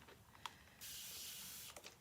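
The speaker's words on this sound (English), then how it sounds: "I'm going to spray this" A spray bottle mists paint onto a mixed media background in one steady, close hiss lasting about a second, preceded and followed by small plastic clicks from the trigger.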